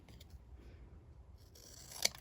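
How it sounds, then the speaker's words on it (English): Scissors trimming paper for a handmade birthday card, quiet faint cutting with a sharp snip near the end, close and without talk. "we're going to just grab our scissors and we're going to just trim this"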